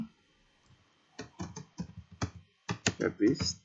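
Keystrokes on a computer keyboard while renaming a desktop, short bursts of close, crisp clicks in irregular clusters with a pause midway, a voice speaking over parts of it.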